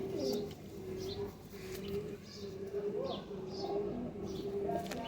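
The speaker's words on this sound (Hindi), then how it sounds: "अब ये मेकर कबूतर है हमारे" Purple-footed maker pigeons in a flying-breed loft give soft, repeated low coos at a steady, unhurried pace, fairly faint against a hazy background with distant voices.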